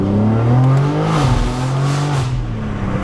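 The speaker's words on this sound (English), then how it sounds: "So you've got that really crisp tone, obviously, with the high flow sports cats, the titanium exhaust system." A BMW G81 M3 with high-flow sports catalysts and a titanium exhaust system pulls hard while driving, a loud, crisp engine note rising and dipping through gear changes, close and continuous with no voices.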